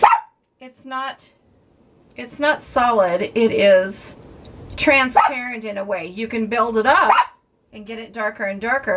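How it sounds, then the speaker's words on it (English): Dog barking in the background of an indoor mixed-media ink lesson, partly masked by a person talking steadily over it. "Sorry about my dog barking."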